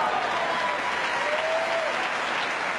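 A Wimbledon tennis crowd applauds in a sustained, dense wash of clapping that stays loud and even throughout, with faint voices mixed in.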